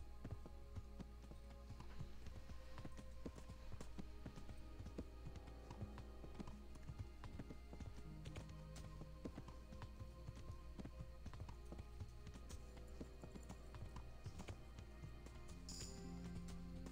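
Horse hooves clip-clop at a steady riding pace in the medieval game Kingdom Come: Deliverance, quiet and continuous beneath a low constant background hum.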